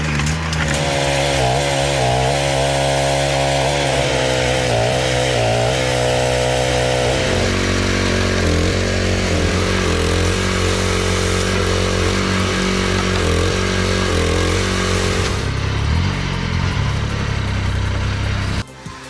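Jobo WP50 Woodpecker firewood processor cutting wood: a loud, continuous saw-engine roar that rises and falls in pitch under load, running steadily close by before cutting off at the end.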